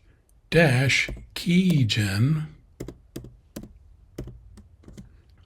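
Keys clack on a computer keyboard as an ssh-keygen command is entered, a scattered run of sharp taps following a stretch of talking.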